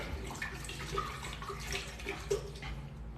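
Leftover alkaline water poured into a blender to start a smoothie, a steady close splashing and gurgling stream with small bright drips scattered throughout, and no one speaking.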